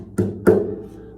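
Two hand strikes on a surface imitate bongo or conga drumming, each a short, close thump with a quick decay, spaced about a quarter second apart.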